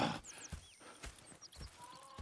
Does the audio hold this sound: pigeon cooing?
no